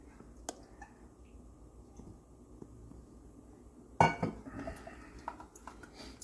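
A utensil clinks against a pan while eggs are stirred on the stove, with faint scattered taps and then a sharper burst of scraping and clatter partway through, close and quiet.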